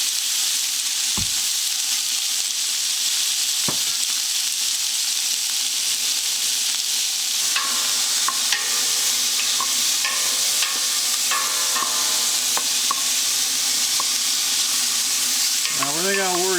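Beef chunks sear in an overly hot pan for a homemade vegetable beef soup, giving a loud, continuous sizzle and crackle with scraping and stirring clatter as the meat is moved around, and no talking.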